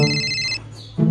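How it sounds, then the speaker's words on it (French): A telephone rings with a bright electronic tone. One long burst is followed by a short pause, then the ring starts again, loud and close. "Ça sonne bien."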